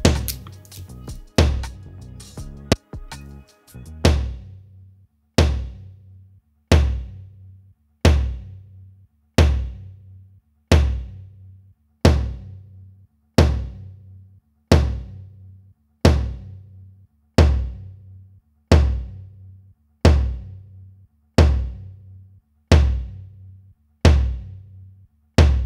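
A floor tom is recorded with a Universal Audio SD7 microphone through Hemisphere mic modeling. A quick cluster of drum hits opens, then single booming strikes ring out alone at a steady pace, each decaying before the next.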